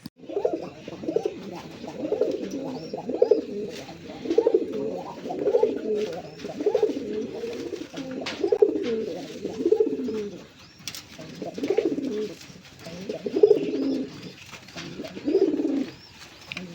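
Sky-blue pigeons in a loft coo in repeated throaty, rolling phrases, several birds overlapping close by throughout, with no talking.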